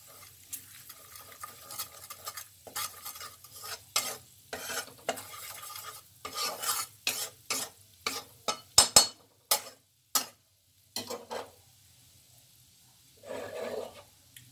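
Cornflour being roasted in hot oil in a pan while being stirred, giving a run of close scraping stir strokes over a soft sizzle, then quieter with a few strokes near the end.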